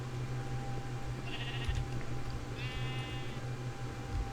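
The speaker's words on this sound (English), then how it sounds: "Oh, that's a brown sheep right off the bat, okay. And that's a white sheep, awesome." Blocky video-game sheep in a Minecraft Skyblock farm bleat twice in short wavering calls, one after the other, over a steady game hum and background drone.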